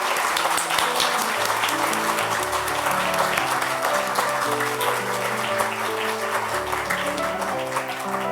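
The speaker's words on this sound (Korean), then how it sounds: "박수 부탁드립니다" Sustained applause from a large crowd at an arts award ceremony, steady and fairly loud throughout, with background music playing underneath.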